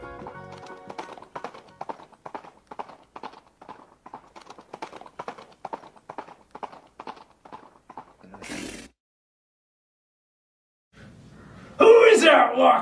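Goat hooves trip-trapping over a bridge in a puppet storytime of the Three Billy Goats Gruff come as quick, even, hollow taps for about eight seconds, followed by a pause and then a sudden loud burst.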